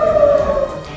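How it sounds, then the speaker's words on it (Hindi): A city-wide warning siren wails at one steady pitch before a missile attack in Israel, loud and alone, fading slightly toward the end. "इसके लिए पूरे शहर में तेज आवाज में सायरन बजाए गए"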